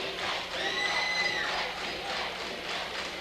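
A basketball crowd in a school gym chants the player name PJ, a steady distant wash of many voices with a few higher shouts standing out.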